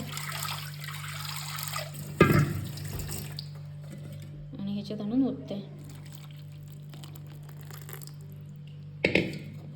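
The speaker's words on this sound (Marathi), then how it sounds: "खाईच्या पातळीतून पाणी घेतोय थोडं" Water pours from a vessel during the washing of homemade buffalo-milk ghee in a village kitchen, splashing and trickling in short bursts beneath a person talking.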